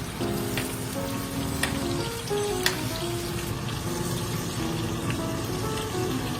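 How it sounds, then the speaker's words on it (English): A steak sizzles steadily in a pan of browned butter while being basted, a continuous crackling fry with occasional spoon clinks and small pops, close and unbroken. "Once your butter has been browned, start basting."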